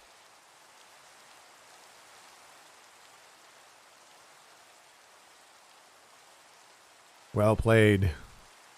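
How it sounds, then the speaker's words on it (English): Steady rain falling in Minecraft, a soft even hiss running throughout at low level, with a brief burst of speech near the end. "Oh, thank gosh, the rain is over."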